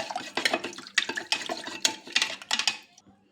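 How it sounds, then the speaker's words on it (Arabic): A spoon stirs salt into water for a pickle brine: a quick clinking rhythm against the container with some sloshing, close and fairly faint, lasting about three seconds and stopping suddenly. "هبتدي اقلب"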